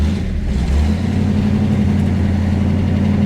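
A 1968 Chevrolet Camaro RS/SS with a Muncie manual gearbox pulling away in first gear on a cold day, a loud steady low engine rumble heard from inside the car, alone without talk.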